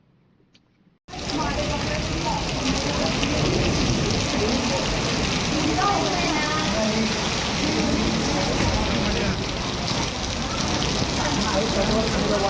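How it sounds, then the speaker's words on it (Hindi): Heavy rain pours down during the Ganga Aarti at Devprayag. It starts abruptly as a loud, dense, steady roar close by, and voices are mixed into the downpour. "जैसे ही गंगा आरती शुरू हुई, वैसे ही तेज बारिश शुरू हो गई।"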